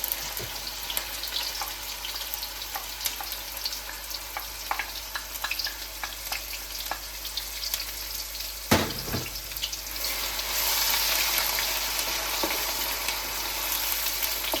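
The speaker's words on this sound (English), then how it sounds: "fry the onions until they are golden brown" Onion puree frying in a pan over a medium flame, a steady close sizzle with scattered clicks and stirring scrapes, briefly interrupted by a sharp clatter before the frying grows louder and denser.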